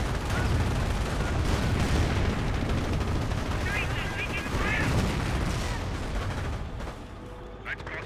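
Gunfire and bazooka blasts from the World War II strategy game Company of Heroes, a dense continuous battle din of shots and explosions with a voice talking over it.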